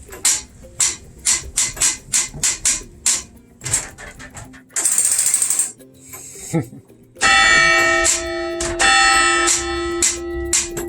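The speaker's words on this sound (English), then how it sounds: "ringing the bells" A clock tower bell, in a tower dating from 1919 in Madison, North Carolina, is struck repeatedly in a quick irregular rhythm, then a burst of noise, followed by sustained loud ringing tones that hang and decay.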